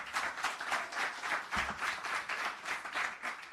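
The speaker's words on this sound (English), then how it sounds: "Another round of applause, ladies and gentlemen" Applause from an audience at the launch and rebranding ceremony of the Jamaica Trade Board, steady rhythmic clapping that swells and dips, moderately distant, with no talk over it.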